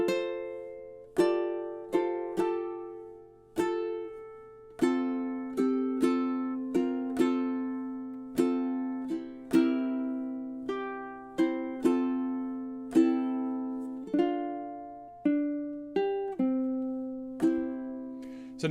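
Ukulele strumming the opening measures of March of the Toreadors, played very slowly as a tutorial demonstration, with distinct strums in an even, unhurried rhythm, close and clear with no talking.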